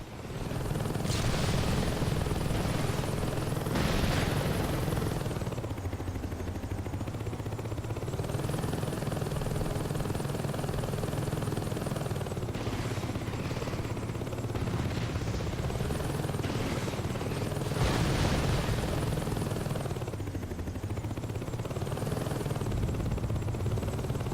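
A helicopter's rotor thrums steadily and loudly throughout, with a whining engine tone that swells and dips, during a heli assault in the video game Saints Row 2.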